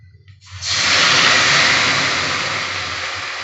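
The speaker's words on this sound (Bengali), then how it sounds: "পোস্তটা আমি এবার দিয়ে দিচ্ছি।" Poppy seed paste dropped into hot oil with fried tempering spices for potol posto bursts into a loud, steady sizzle that holds and fades slightly toward the end.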